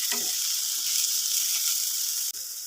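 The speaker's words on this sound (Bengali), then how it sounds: "মাঝে মধ্যে এইভাবে উল্টে পাল্টে দিয়ে আবারও ঢাকা দিয়ে সবজিগুলো খুব ভালো করে ভেজে নিচ্ছি" Vegetables for a samosa filling fry in a pan, turned now and then and covered. A constant close sizzle runs throughout, broken by a brief dip near the end, with no voices.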